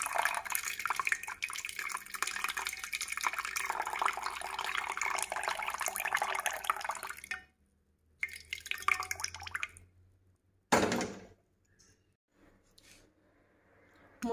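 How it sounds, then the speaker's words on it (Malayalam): Boiled horse gram water is drained off into a vessel, pouring and dripping steadily for about seven seconds, then a few shorter splashes and a brief louder burst of liquid before trailing drips fade near silence. "ഇതുപോലെ പാത്രത്തിലിട്ട് മുതിര ചാറ് ഊറ്റിയെടുത്ത് മാറ്റി വയ്ക്കാം"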